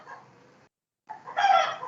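Chickens with a rooster crowing, a short burst of clucking, a brief silence, then a loud rising crow that fills the end of the stretch, heard alone without talk.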